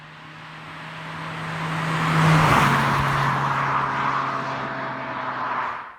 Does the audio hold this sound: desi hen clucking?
no